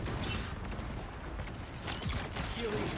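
Iron Man's pulse cannons fire in Marvel Rivals as a dense, continuous barrage of booming blasts. Heavy battle noise keeps the level high throughout, with faint game voices mixed in.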